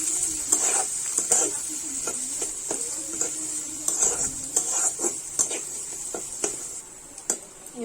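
Onions in hot oil in a pan for a paneer curry, with a faint steady hiss under repeated spoon scrapes and metal clinks against the pan, no talk.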